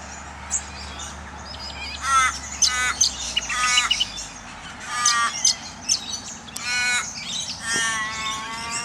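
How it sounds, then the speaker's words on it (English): Cockatoos in full flight around Perth give a run of harsh, raucous squawks and screeches in bursts, some close and loud, others fainter, over quiet outdoor background. "Quite raucous, these cockies, when they get in full flight."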